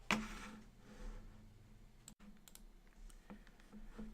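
Computer keyboard keys tapped and mouse clicked while working in GDevelop 5 game software: scattered light clicks and short key presses, soft and close, with brief gaps and no talking.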